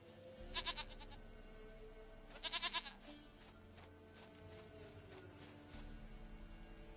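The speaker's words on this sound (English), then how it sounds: "Goat of mine, dearest, sweetest goat." Goat bleating in The Witcher game: two short trembling bleats close by, a fainter cry later and a low rumble beneath, with no talk.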